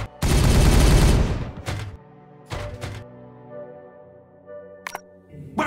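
Gunfire in the Warhammer 40000: Regicide video game: a long, loud roaring volley of shots up front, then a few separate sharp bursts and clicks fading into a quiet hum.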